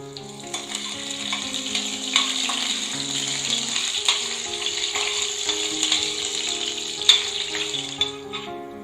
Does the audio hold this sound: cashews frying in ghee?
yes